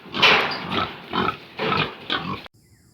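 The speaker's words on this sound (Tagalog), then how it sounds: "this is our pig farm" Pigs in a gestating pen on a pig farm grunt and squeal loudly and close up in four or five rough bursts, then fall abruptly silent.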